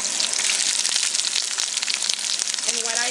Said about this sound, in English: now I have some oil in the pan, and we're gonna add the shrimp